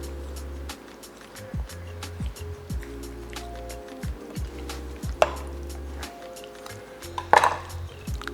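A knife works through a whole raw chicken, breaking it down, with repeated soft cuts, thuds and board knocks at a close, quiet level.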